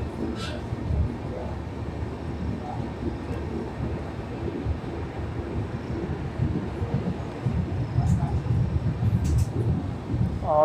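Chauri Chaura Express passenger train running between Kanpur Central and Prayagraj, a steady rumbling roar of wheels on track heard from on board, with wind buffeting and rhythmic clatter growing louder near the end.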